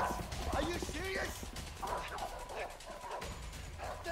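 Dogs barking in a video game, a few quick barks mixed with in-game effects, heard faintly beneath a player's excited shouting.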